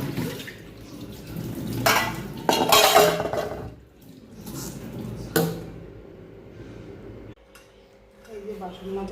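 Dishes and pots, including a small karai, clatter and scrape during washing up after a meal, with running and dripping water. The knocks are uneven, and a voice talks over them.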